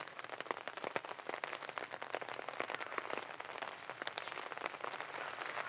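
Steady rain falls at Odawara Castle in Kanagawa, a dense, close patter of drops striking the ground and puddles that runs continuously without any voices.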